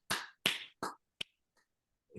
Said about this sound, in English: Now, you clap for yourself.